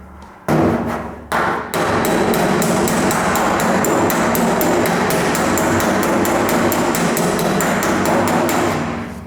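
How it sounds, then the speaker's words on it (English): A body hammer beats a Ford Falcon show car's metal panel against a dolly in a fast, steady run of close, loud metallic taps after a few opening blows, with the panel ringing between strikes. "you can hear how solid or tinny that sounds. That's because the dolly's in the right spot"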